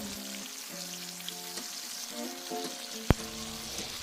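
Tofu frying in hot oil in a pan, a soft steady sizzle running throughout, broken by one sharp loud click or clatter near the end.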